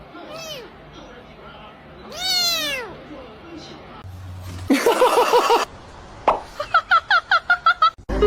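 A cat with its head stuck in a chair meows repeatedly in drawn-out, strained cries, followed by a quick series of short, rhythmic yowls near the end, with a clatter midway.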